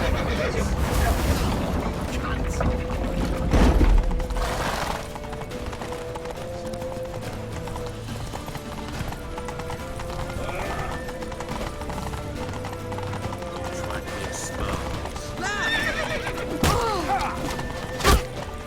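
Horse hooves clop in a quick gallop rhythm through a tense chase scene in The Witcher 3, mixed with game music, shouting and effects, with voices calling out over the action.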